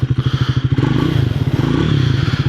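A 2025 Triumph Speed 400 motorcycle engine idling close by, a loud rapid chugging pulse with a rough, rattling tone.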